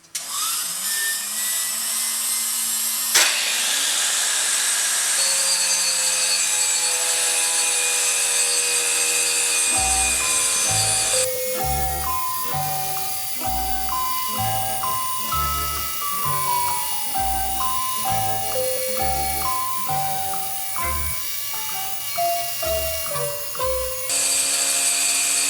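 A tire machine grinds a racing tire: a loud, close motor whine holds steady, then gives way to a rhythmic, pulsing grinding scrape that repeats for several seconds before the machine winds down.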